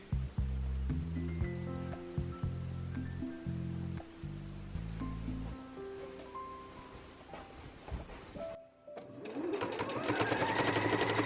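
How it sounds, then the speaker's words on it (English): A sewing machine stitches through the layers of a quilted tote bag in steady runs with short pauses. A higher, brighter whirring takes over near the end, and no one speaks. "We're going to sew all of those layers together using 5/8 inch seam allowance."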